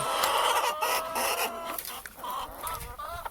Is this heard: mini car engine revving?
no